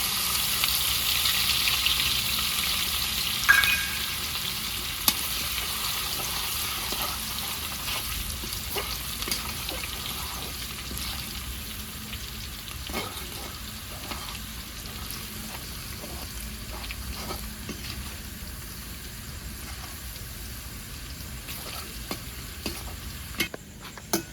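Crushed garlic frying in oil in a pan in a village kitchen, a steady close sizzle with occasional stirring scrapes and soft clicks throughout.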